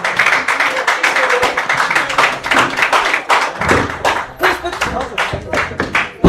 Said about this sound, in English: Put your hands together once more for Barrister Chidera Ezani Eturu.